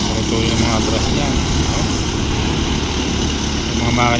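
An 18-horsepower boat engine with reverse runs loud and steady at close range, a continuous rough drone lasting the whole few seconds while people talk over it.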